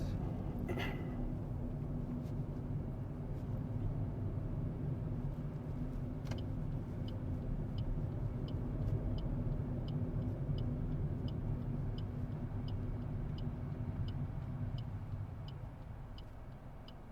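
Car engine and road rumble inside a vehicle on a driving test, a steady low drone throughout with faint regular ticking like an indicator, no talk in the clip.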